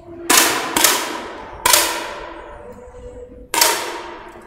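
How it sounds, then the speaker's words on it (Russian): Four sharp 10 m air rifle shots crack out at irregular intervals at a women's shooting competition, each followed by a short metallic ringing decay. "Завершающий выстрел в этой серии."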